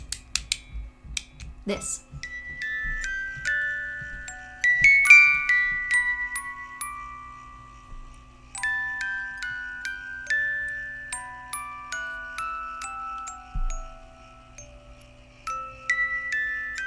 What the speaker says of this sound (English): This is a music box.